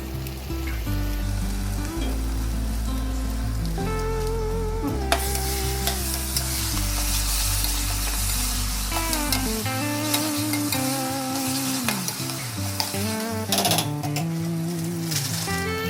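Pav bhaji with onion-garlic masala stirred and fried on a street-food griddle: loud, continuous sizzling with rapid metallic clanks and scraping from a spatula, while a droning tone runs underneath for much of it.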